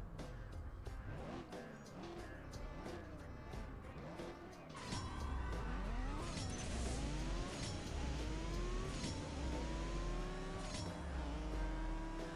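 Racing engine in CSR Racing 2 revs hard and shifts repeatedly, rising whines climbing through gears after a launch, loud and close, with brief tire squeal and no talk.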